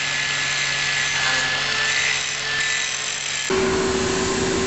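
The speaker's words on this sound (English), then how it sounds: "And now he's just smoothing down the edges so it doesn't cut the hose." A power tool grinds and smooths the edges of a cut metal blank for a 1968 Mustang coupe restoration, a steady, loud, close whirring hum whose pitch drops near the end as the load changes.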